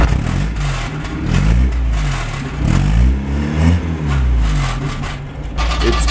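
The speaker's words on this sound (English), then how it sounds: "It's because the exhaust pipe is like vibrating against the metal." An old Land Rover engine revs up and down repeatedly, its exhaust pipe rattling and buzzing against metal, loud and close.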